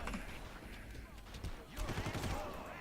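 Pistol and gun fire in the shooter game Far Cry crackles in scattered bursts through a faint, busy mix, with a cluster of shots toward the end and a voice speaking quietly underneath.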